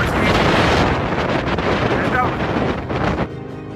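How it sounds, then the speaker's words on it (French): Strong wind buffets the microphone outdoors, a loud continuous rumbling roar that gusts and dips before easing at the end. "il y a toujours beaucoup de vent"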